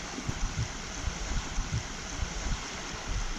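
Moderate flow of a small Alaskan river runs steadily and close, a continuous wash with soft gurgling pulses throughout and no voices.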